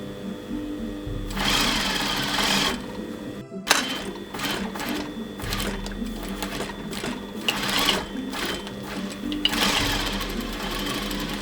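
A sewing machine stitching curtain tape and a hem, running in loud close bursts of rapid mechanical whirring separated by short pauses and a brief silence, with no talk.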